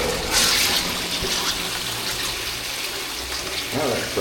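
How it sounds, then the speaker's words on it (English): A toilet in Japan flushes with a loud rushing surge of water at the start, then a steady gurgling drain that tapers off over a few seconds, with no talk. "There's the flush."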